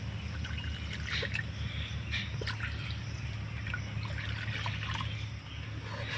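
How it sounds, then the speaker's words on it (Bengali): Two bowls of water poured into carrots frying in a pan: a continuous, moderately loud trickle and splash with no pauses throughout. "এই বাটি মেপে দিয়ে দিব 2 বাটি জল"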